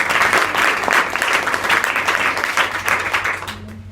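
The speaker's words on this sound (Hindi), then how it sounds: "यहाँ पे जो मौजूद टीचर हैं उनके लिए भी ताली बजा दिया" Loud, dense applause from a large group at a school adolescent education program, clapping for the teachers, carries on steadily, then tapers off near the end as a faint hum remains.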